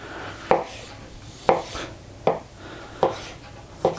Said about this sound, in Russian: Уж маринованную паприку так грамотно нарезать, это я вам скажу.